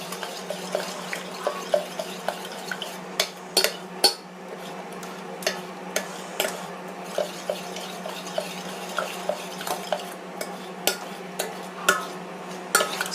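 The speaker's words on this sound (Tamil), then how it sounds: "இதை நல்லா மசிச்சு விட்டுக்கலாம்." Cooked lentils and drumstick leaves being mashed in a pot for muringai keerai kuzhambu, with repeated soft clacks and scrapes of a utensil against the metal pot in an irregular rhythm, close and fairly quiet.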